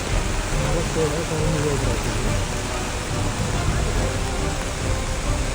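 Heavy rain pours in a hill-country area hit by landslides, a steady dense hiss running throughout while someone speaks over it.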